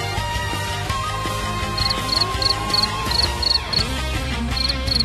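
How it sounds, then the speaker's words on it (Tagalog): Crickets chirp in quick, high, repeated trills that come in short rhythmic bursts, faint and layered over a steady low background hum and music-like tones, with no talk. "saan naririnig mo yung kuliglig?"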